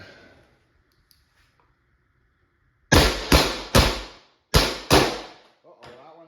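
A Pepperball VKS less-lethal launcher running at 1100 psi with a repaired firing pin fires 8.1 gram rounds in quick succession, five sharp loud cracks in two tight groups, followed by a faint impact.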